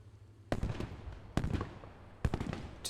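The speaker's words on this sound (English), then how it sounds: "Just a little grenade." Sharp explosive bursts go off three times, evenly spaced and loud, in the World War II shooter game Post Scriptum, set at Sainte-Mère-Église in 1944, with no talk over them.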